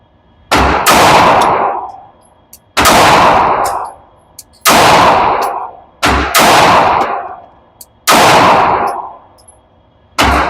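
Pistol shots from a SIG P365 fitted with an Icarus FDEZ Fuse frame, six loud, close, sharp reports spaced about two seconds apart, each trailing off in a ringing echo.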